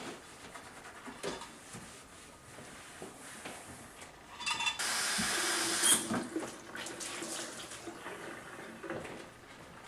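Running tap water washes over a soapy dishwashing rag and a kitchen counter, a soft splashing that swells into a louder steady stream midway, with light clinks of dishes around it.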